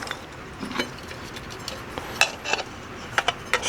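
Metal parts of a Hot Devil camp stove being screwed together: light scraping and a series of sharp metallic ticks and clinks, close and fairly loud, growing denser toward the end.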